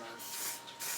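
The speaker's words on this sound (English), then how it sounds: "Spray, try and get all down in the petals." Hairspray hisses onto cut flower petals in two short, close aerosol bursts, soft and airy, with no talk over them.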